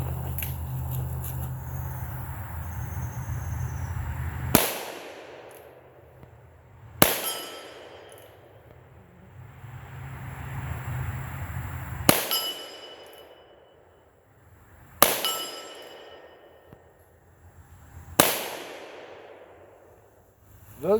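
Five loud, sharp shots from a 10-inch Freedom Arms Model 83 revolver in 45 Colt, firing 200-grain cast lead semi-wadcutters, ring out at uneven intervals a few seconds apart. Each crack decays into a short echoing tail over quiet outdoor background.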